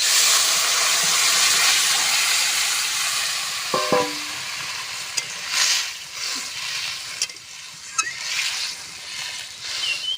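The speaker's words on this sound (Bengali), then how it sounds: "সেদ্ধ করে রাখা আলু আর কচু ঝোলটা ঢেলে দেব" Fish curry broth with potato and taro being poured into a hot pan for a village-style rohu curry, giving a loud, steady hiss and sizzle that fades into softer bubbling, with a few clinks of a utensil partway through.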